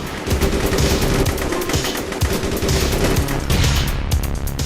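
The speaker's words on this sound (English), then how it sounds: "Oh no, they're shooting at us." Rapid automatic gunfire rattles in the online action game APB, dense bursts of shots crowding one another, loud and close throughout.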